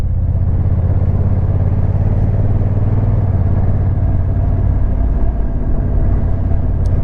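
A Honda NT1100 motorcycle engine rumbles steadily and loudly underneath the rider while riding along the road, a continuous low drone with no talking over it.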